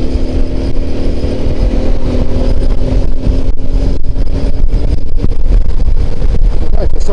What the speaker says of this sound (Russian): Ветром меня сейчас так прям заколбасило.